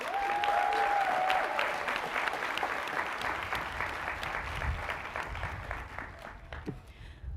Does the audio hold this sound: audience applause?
yes